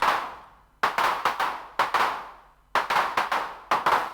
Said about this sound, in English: you can get this interval going between the claps